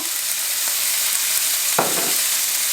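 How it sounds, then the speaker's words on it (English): Onions frying in olive oil in a dry pan, a steady close sizzle with a brief louder burst of hiss partway through as more oil hits the pan. "while the onions are cooking, I'm going to add just another tablespoon of olive oil"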